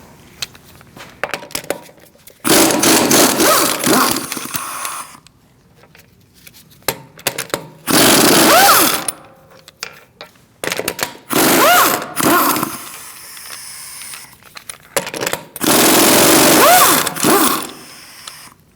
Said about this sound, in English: Using a 17mm socket, we are going to remove our wheel.